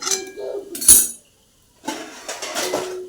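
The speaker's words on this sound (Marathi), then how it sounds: "मी यावरती दोन मिनटं झाकण ठेवते असं ठेवून" A metal lid is set onto a kadhai of steaming soaked chana dal chutney, giving a sharp clink and clatter near the start. A short silence follows, then more soft kitchen clatter and handling noises.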